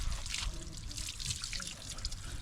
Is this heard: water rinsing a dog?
yes